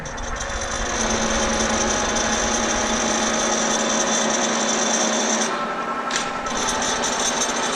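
A milling machine runs at roughly 1200 RPM with a half-inch three-flute cutter while knobs and a decorative cover are made, giving a steady, loud machine whine and hum with no talk over it.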